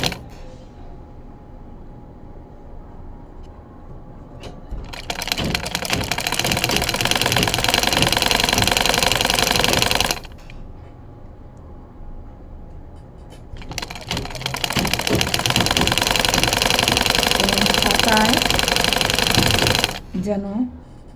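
A sewing machine stitches fabric while piping is left out at the edge, running in two loud rattling bursts of about five seconds each with quieter pauses between them.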